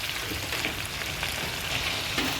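Chicken pieces for adobo frying in a pan, giving a dense, steady sizzle and crackle at close range with no talk.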